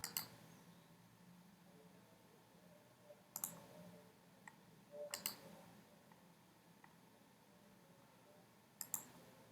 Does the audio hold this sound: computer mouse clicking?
yes